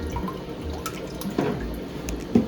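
Liquid beneficial bacteria poured into a freshwater aquarium set up for Kribensis cichlids, heard as a soft close trickle and splashing of water, with a couple of louder drips near the middle and end.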